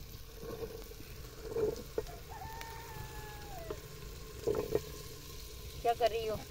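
Cauliflower tipped into a frying pan set over an open wood fire on a village clay stove for a potato-cauliflower curry gives a low, soft sizzle with a few rustling bursts, while a rooster crows faintly in the distance.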